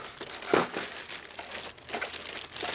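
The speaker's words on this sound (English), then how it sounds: "Look at all those plastic bags I gave you." Someone handles a pile of plastic bags close up in a workshop during a Harley-Davidson FXR Evolution motor rebuild, making continuous crinkling and rustling with a sharp crumpling burst near the start and further rustles later.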